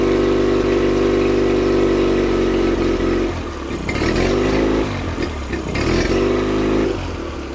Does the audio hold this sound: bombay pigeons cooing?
no